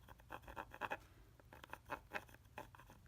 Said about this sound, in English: I might go back with my pencil and outline these guys,